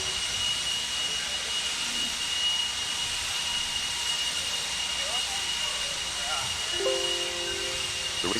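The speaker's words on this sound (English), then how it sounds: "Marshall, gonna grab those blowers. They're blowing off your areas, please" Leaf blowers clearing an outdoor RC buggy raceway give a steady, fairly distant high hissing whine that holds throughout.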